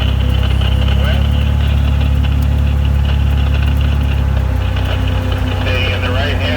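A vintage convoy vehicle's engine drones steadily as it drives along a highway, a loud continuous low rumble with road noise throughout and no break.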